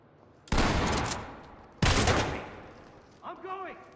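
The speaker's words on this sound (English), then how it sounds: "Use the shotgun and clear." Two loud, close shotgun blasts in the tactical shooter game Ready Or Not, each a sharp boom trailing into a long echoing decay, followed by a brief warbling electronic tone.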